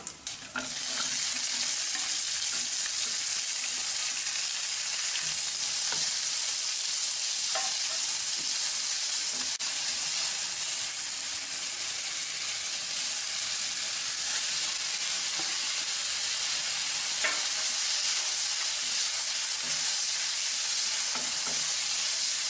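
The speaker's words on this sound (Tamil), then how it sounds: "தேங்காய் ரொம்ப வதங்கணுங்கிறது இல்லை" Steady sizzling and frying of coconut in a pan, with occasional soft scraping stirs, continuous and close throughout.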